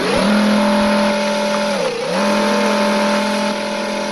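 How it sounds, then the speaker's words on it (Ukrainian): An army vehicle engine revs hard and steadily while driving over rough, muddy ground, its pitch dipping briefly near the middle before climbing again, loud and close with no talking. "Це ж машина армейська."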